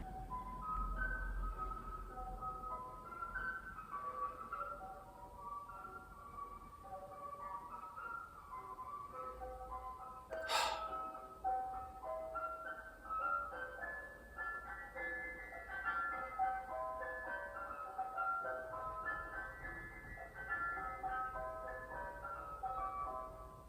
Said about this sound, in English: let the match of the day ice cream truck drive by